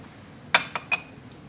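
A few bright clinks from salt being put into a glass test tube: three short, close taps in under half a second, fairly clear against a quiet background.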